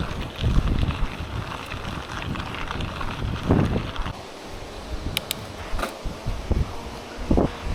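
Strong gusty wind roars and buffets a microphone outdoors on a cycling ride toward a river ferry across the Nemunas, a steady loud rumble that swells and drops, with a few brief clicks and no speech.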